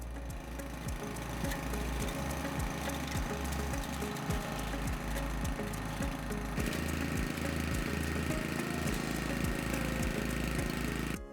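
A Cobra WV580SPL wheeled garden vacuum runs its petrol engine with a steady, loud, chugging drone and a rapid regular pulse, close by and with no talk over it.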